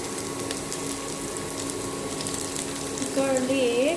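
Ginger and garlic frying in a pan for a Manipuri potato snack, a steady close sizzle that keeps going throughout, with a brief tonal squeak near the end.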